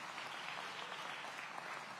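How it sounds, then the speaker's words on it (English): An audience at a city public safety meeting gives soft, even applause, a faint and steady wash of clapping heard from a distance. "give that a round of applause"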